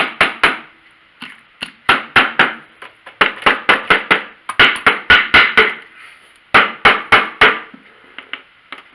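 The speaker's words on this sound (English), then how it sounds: "if I just take a rubber hammer, we'll tap this" A rubber hammer taps the metal valve cover of a V12 engine in quick bursts of three to five sharp knocks, loud and close, with short pauses between groups.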